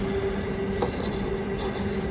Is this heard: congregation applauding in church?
no